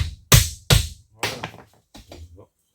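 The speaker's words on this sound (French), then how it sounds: "un petit coup de marteau." A hammer taps a plumbing fitting for 16 mm pipe during tiny house plumbing work: two sharp, loud, close strikes in quick succession, then several softer knocks and clatters fading out, with no talking.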